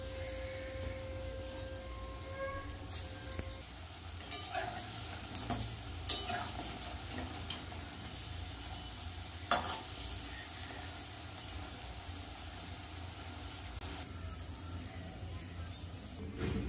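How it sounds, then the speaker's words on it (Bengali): Mung dal fritters fry in hot oil, giving a continuous crackling sizzle with scattered scraping stirs and clacks from a utensil against the pan. "এখানে আমার বড়াগুলো সব ভাজা হয়ে গেছে"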